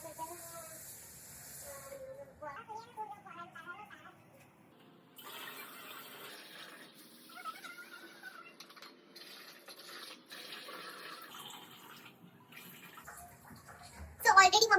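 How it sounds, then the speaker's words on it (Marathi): Bitter gourd being washed under running kitchen water, a soft intermittent splashing and trickling stream that comes and goes, with faint background voices and a louder burst of water near the end. "आता एकदा धुवून घेऊया आपण."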